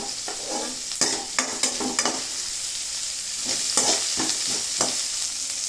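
Onions and green chillies sauté in a pan for a home-style chicken curry, a steady sizzle broken by repeated scraping stirs that come in short clusters. No one speaks.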